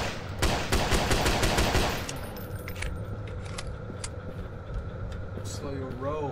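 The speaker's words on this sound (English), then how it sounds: "Alright, headshots don't matter. I'm shooting the body." Rapid gunfire into an enemy's body in Forsake the Rake, a horror video game: a dense, loud burst of shots for about two seconds, then quieter game ambience with people talking.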